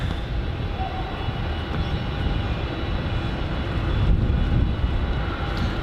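Steady broadband roar of a Jetstar airliner at Melbourne Airport in heavy wet weather, a continuous rumble that swells slightly toward the end, blended with rain and wind noise and no voices.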